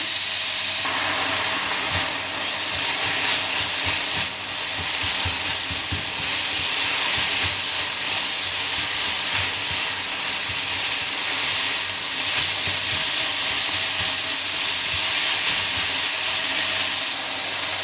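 Ground beef browning in a pan for spaghetti bolognese, giving a steady, close sizzle and hiss throughout with faint stirring scrapes, no voices.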